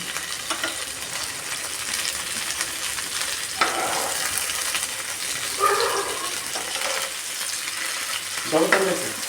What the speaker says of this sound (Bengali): দাঁড়াও মাংসটা ভেজে নিই তারপরে যাও